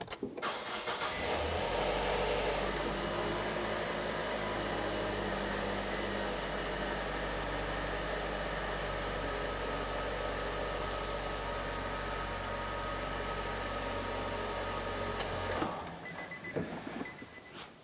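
A Nissan Juke 1.6L four-cylinder engine starts and then idles steadily right after an oil change, with a loud, constant engine drone that holds for about fourteen seconds before it shuts off.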